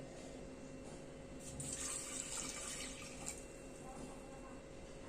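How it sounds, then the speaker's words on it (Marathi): Water runs steadily into a pressure cooker holding masoor dal, chopped tomato, salt and turmeric, a continuous faint trickle and splash heard close by for several seconds. "इथे मी दोन ग्लास पाणी घातलेलं आहे"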